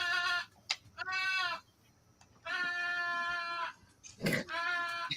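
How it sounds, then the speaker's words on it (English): A female goat named Gabby bleats several times up close, long wavering nasal cries separated by short pauses, with a brief rustle between calls. "This is a goat."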